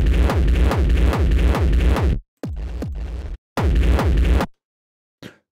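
Processed industrial hardcore kick drum built in FL Studio, pounding in fast repeated loud hits with distorted, gritty bursts, broken by short pauses and a quieter stretch before a final loud run cuts off.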